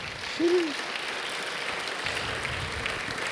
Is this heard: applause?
yes